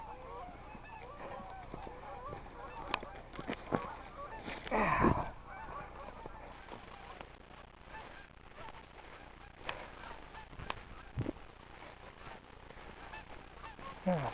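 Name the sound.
goose honking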